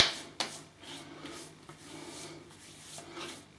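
Hands rubbing shaving oil from a Scottish maker into the skin before a shave, giving soft, close, continuous friction with a couple of light slaps and no talking.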